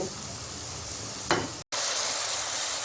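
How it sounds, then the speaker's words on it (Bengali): Ground spices with salt, chili, coriander and turmeric frying in oil, a dense continuous sizzle with a stirring scrape and a brief dropout near the middle. "এখন মশলাটা আমি ভালোভাবে কষিয়ে নিব"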